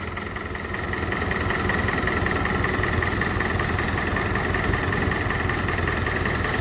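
A cold David Brown 1490 tractor diesel idles steadily and loud, a continuous low rumble with a constant mid-pitched whine running throughout, with no talking.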